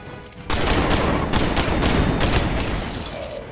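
Mag Dump gunfire attack in the Midnight Suns video game: after a brief lead-in, a loud, dense, rapid stream of gunshots hammers on continuously for about three seconds.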